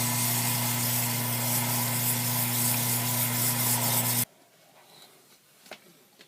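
Sandpaper rubbing against a spinning wooden pen blank on a lathe, a loud steady buzzing hum with a raspy hiss for about four seconds, then it cuts off abruptly, leaving quiet handling noises.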